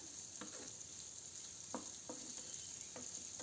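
Onion frying in a pan for onion chapati gives a soft, steady sizzle with a few faint scraping stirs, heard quietly up close with no talking.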